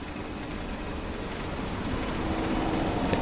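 In the Train Sim World game, a dark rainy outdoor railway scene carries a steady broadband rush of rain and rumbling train noise that grows slightly louder throughout, with no voices.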